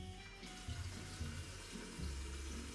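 Tap water running into a kettle or container for boiling while making whipped coffee, a faint continuous splashing stream with small shifts in flow and a few soft knocks.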